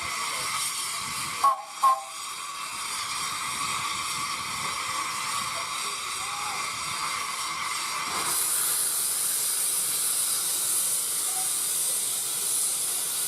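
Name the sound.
steam saddle tank locomotives hissing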